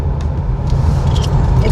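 A car engine idles and rumbles low and steady near a park parking area, a continuous close drone with faint higher clicks over it.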